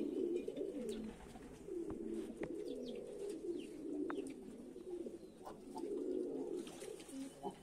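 Pet pigeons flutter down to a small bathing tray, cooing in low, rolling bursts that come and go with a few sharp flaps and clicks, fairly close and alone.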